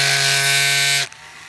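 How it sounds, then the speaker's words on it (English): A drill bit whines steadily at close range while boring into a seized screw in an SU carburettor float bowl, then cuts off abruptly after about a second, leaving quiet. "So we just drill down into here"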